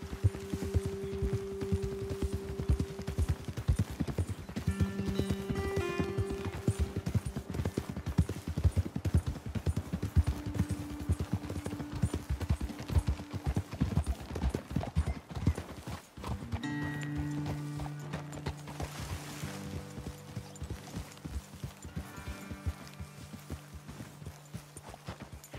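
Horse hooves clip-clopping in the western video game Red Dead Redemption 2, a steady walking rhythm of several horses on a dirt trail, with a brief whinny and soft game music in the background.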